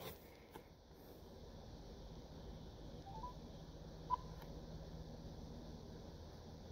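Touch-tone beeps from a phone being dialed sound faintly and sparsely over a quiet background hiss, with no talking.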